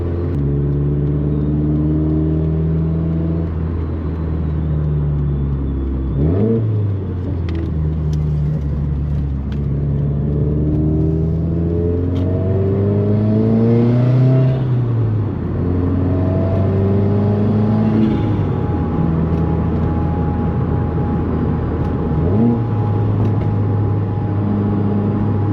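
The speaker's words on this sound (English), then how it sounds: "Turbo's so loud, bro." A 2016 Subaru WRX turbo engine with a new downpipe drones steadily from inside the car while driving, rising through gears in repeated rev sweeps with clear shift dips and a whooshing turbo whir.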